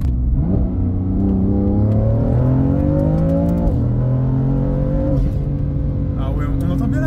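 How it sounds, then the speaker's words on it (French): A BMW M3 F80 revs hard on a deserted road, engine pitch climbing and dropping in repeated sweeps with turbo blow-off whooshes, loud and close, while people talk over it. "Ah ouais, on entend bien la décharge du turbo."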